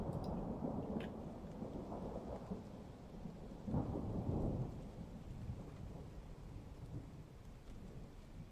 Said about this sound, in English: The storm volume kind of drives me nuts.